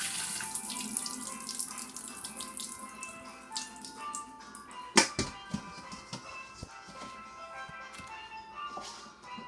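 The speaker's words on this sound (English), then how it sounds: "So wash it with some lime." A scaled pink snapper being washed with lime under a running tap: faint, steady water flow with splashes from handling and one sharp knock in the middle.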